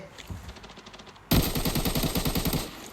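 Automatic gunfire in the shooter game Arena Breakout: faint distant shots, then a loud close burst of rapid rounds starting partway through and lasting to the end.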